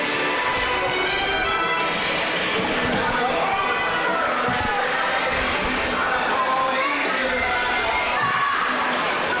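A Shiloh Christian crowd at a high school volleyball game against Washburn cheers and shouts for player Joey Lamar, a dense, steady roar of many voices that fills the gym and runs loud the whole time.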